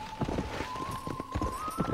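Horse hooves clip-clop at a steady trot in the video game Red Dead Redemption, rhythmic clear hoofbeats over a faint sustained tone.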